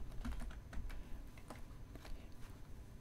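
A computer keyboard being typed on continuously, with quick irregular clicking keystrokes close by and fairly quiet, with no voices.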